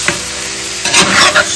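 Mutton for Azerbaijani shakh pilaf dropping into a hot pan, a loud close burst of sizzling that swells as the meat lands, with no voices.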